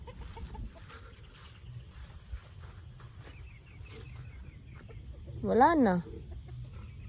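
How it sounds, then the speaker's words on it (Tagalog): Chickens cluck softly in the background, then a rooster lets out a loud crow near the end, with a person's voice briefly heard. "Yan, mga manok."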